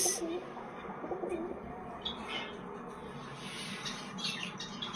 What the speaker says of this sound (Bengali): এই দেখো আজকে তোমাদেরকে দেখায় পাখিদের কর্মকাণ্ড, পাখিদের সার্কাস।